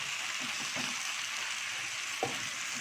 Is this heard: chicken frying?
yes